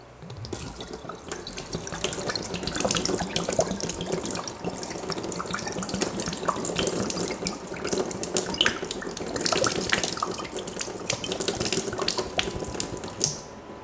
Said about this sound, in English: Here I'm gonna fill up the water